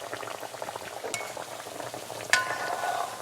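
A thick roat, a Hanuman prasad flatbread, fries in oil in a pan over medium heat, giving a soft, steady bubbling sizzle with a couple of brief utensil clinks and no talking.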